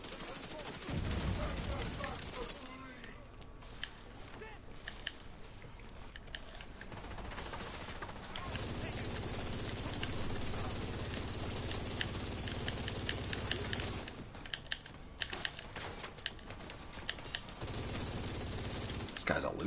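Barrage turret gunfire in The Division 2 video game: dense, continuous rapid-fire bursts rattling almost nonstop, with brief lulls between volleys amid game noise.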